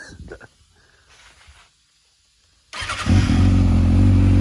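After a few quiet clicks and near silence, a Kawasaki ZX-6R motorcycle with a modified exhaust fires up and settles into a loud, steady, throbbing exhaust rumble close by.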